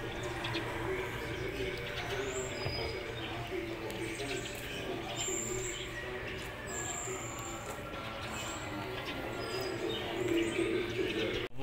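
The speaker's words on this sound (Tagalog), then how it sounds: "Bugaw kami ng mga ibon." Birds flutter and call around a tower, with faint cooing and short chirps scattered over a steady low background hum, the calls soft and somewhat distant throughout.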